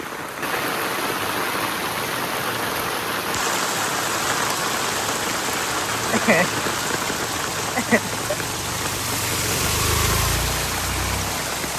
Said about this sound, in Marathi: पाऊस खूपच डेंजर पाऊस पडला आज